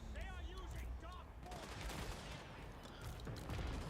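Great cannon fire in Total War Warhammer 3, heard as dense booming battle noise that runs throughout, with gunfire-like cracks under a speaking voice and some harmonic sounds early on.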